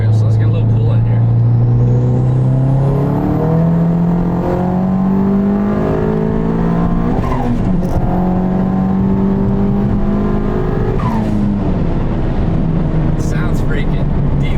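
A big-turbo twin-turbo drag car engine pulls hard, its rising pitch climbing steadily with a brief dip mid-pull, loud and close throughout.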